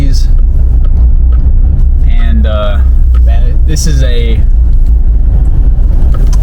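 A lifted GMC 2500 truck on a Cognito lift kit idles with a deep, steady low rumble that carries close and loud the whole time, while someone talks over it.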